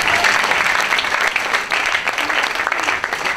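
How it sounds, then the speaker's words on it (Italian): Applause from an audience at a dance event: loud, dense clapping from many hands, steady and unbroken throughout, with no speech over it. "Ci starebbe un applauso"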